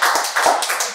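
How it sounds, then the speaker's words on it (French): Applause breaks out for a couple's wedding anniversary at a community gathering, a short burst of dense, close hand clapping that stays steady for under a second. "Alors, on applaudit."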